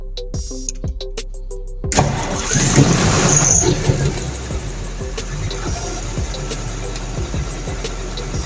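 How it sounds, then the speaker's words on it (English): A generator engine cranks and restarts after shutting down for an under-voltage fault, with a short squealing start around two seconds in, then a steady running drone that carries on alone to the end. "we can restart the engine to make adjustments to the automatic voltage regulator safely"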